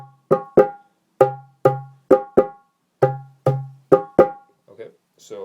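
A dholak plays a sparse rhythmic pattern of sharp slaps mixed with deep booming bass strokes, close and clear, ending with a short trailing flourish.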